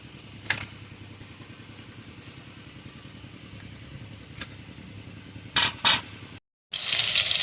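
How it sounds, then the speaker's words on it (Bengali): Pieces of amudi fish half-frying in hot oil give a faint, steady sizzle, with a few sharp clatters and louder bursts of crackling spatter near the end. "মাছগুলো কিন্তু আমরা হাফ ফ্রাই করে আগে তুলে নেব, তারপরে লাস্টে আবার একবার ভালো করে ডিপ ফ্রাই করে নেব।"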